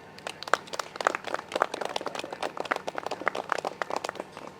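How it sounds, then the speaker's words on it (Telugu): An audience at a Pyramid Spiritual Societies gathering applauds, a crowd of uneven, crisp hand claps rattling on for several seconds at fairly close range. "పిఎంసీకి ఒకసారి గట్టిగా క్లాప్స్ కొడదాం"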